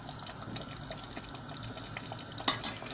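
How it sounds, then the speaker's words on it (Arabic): Hot water trickles gradually into simmering tomato sauce for Egyptian koshari, a steady soft pouring and bubbling wash with one sharper splash or clink near the end, no voices. "الميه ازودها لها واحده واحده"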